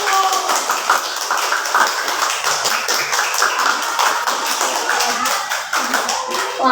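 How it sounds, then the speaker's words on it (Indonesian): A school audience claps for a student at a primary school Quran memorization event, a dense burst of many hands applauding steadily for several seconds, with a voice speaking over it. "Silakan tepuk tangan untuk Raden Kurniawan"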